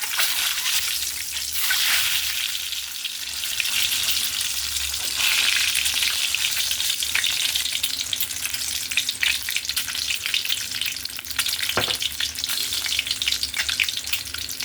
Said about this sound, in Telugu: ఇప్పుడు కొంచెం ఎగ్స్ కొంచెం లైట్గా రోస్ట్ చేసుకుందామండి